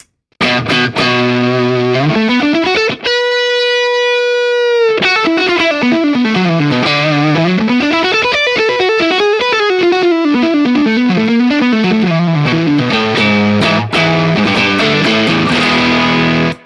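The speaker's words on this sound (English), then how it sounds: "Really nice, chewy, bouncy distortion." Loud, heavily distorted electric guitar through a Tone City distortion pedal with boost engaged in rock mode, playing riffs and bends, with a sustained, bright held note in the middle.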